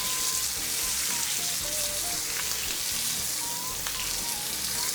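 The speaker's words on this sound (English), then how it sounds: "we're gonna turn this over and cook the other side" Flipped steak sears in a hot pan, a steady dense sizzle and crackle running unbroken and fairly loud throughout, with no voices over it.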